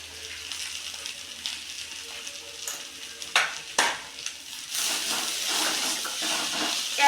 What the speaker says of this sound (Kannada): ಎಲ್ಲವನ್ನು ಚೆನ್ನಾಗಿ ಫ್ರೈ ಮಾಡಿ.